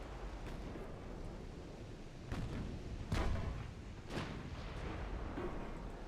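Distant warship gunfire in Ultimate Admiral: Dreadnoughts: muffled booms land every second or so over a steady rumbling, windy background, with one heavier blast standing out.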